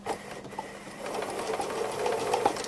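A sewing machine doing free-motion embroidery, stitching around a violet flower, runs as a close, steady, fast mechanical whir and rattle that builds slightly over the few seconds, with no talking.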